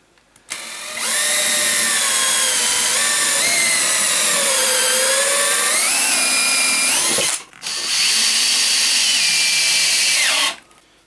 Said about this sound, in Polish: Wrzucę teraz drugie wiertło, które tutaj jest troszkę bardziej ostre, ale czy sprawne, tego nie wiem.